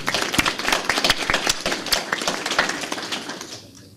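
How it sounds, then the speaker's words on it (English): A smaller library event audience at a university claps, with distinct individual claps standing out close by in an uneven patter that fades away at the end. "So maybe a round of applause for Kevin and his colleagues"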